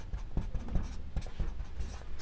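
A pen writing an equation on paper, with steady close scratching strokes and small taps in an uneven rhythm, quiet and alone without talk.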